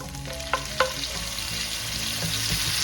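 Onions and tomatoes sautéing in a pan for Filipino sautéed cabbage give a steady, close sizzle, with a couple of sharp stirring clinks early on and no talk.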